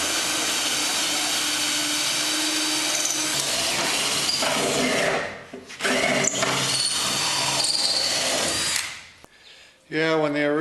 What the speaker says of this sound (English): Drill from one side, then the other